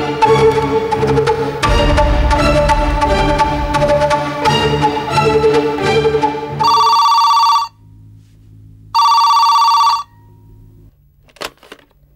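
A telephone rings twice in short bursts, with a pause between, as a call is placed in a Telugu TV serial scene. Background music plays first, and quiet room tone follows the rings.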